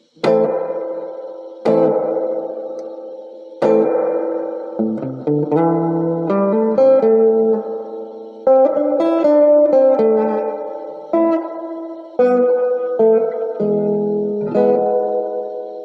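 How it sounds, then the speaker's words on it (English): Guitar-like notes and chords played through the reverb of a 1976 Roland VX-33 mixing amp, each strike ringing out and trailing into a spacious wash before the next. "And then we'll just click this reverb on."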